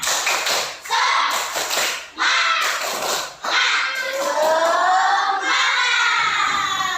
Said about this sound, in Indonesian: ayo kita tepuk semangat, satu kali tepuk semangat